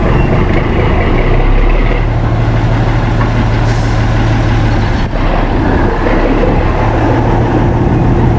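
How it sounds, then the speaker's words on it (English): A loud, steady rumble of a train rolling along with carriages behind it at Chatham Dockyard, a continuous mechanical roar throughout. "this train is gonna pull all these carriages."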